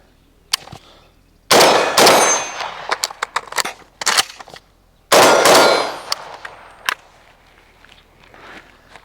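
Rifle shots ring off steel targets in two loud bursts of rapid impacts, each followed by a sharp metallic clang, with quieter clicks and handling of a reload in between and scattered single pings afterward.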